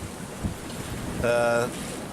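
Strong wind of about 22 knots on a sailboat crossing the Bay of Biscay roars as a steady, rushing buffet against the microphone, with a brief whistling whine rising midway.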